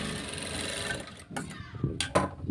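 A sewing machine stitches a seam joining a sleeve piece, a close mechanical whirring with short bursts of stitching that follow a stretch of talk.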